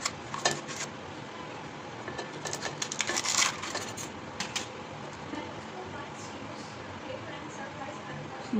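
A metal lid lifted off a cooking pot holding eggless pudding, with a few light clinks and scrapes of metal near at hand over steady kitchen background noise.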